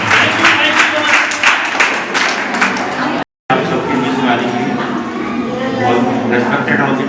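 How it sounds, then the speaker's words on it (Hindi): Students applauding at a school programme, a loud, dense round of clapping that breaks off briefly midway and then continues, with voices mixed through it. "तो एक बार जोरदार तालियां हो जाए।"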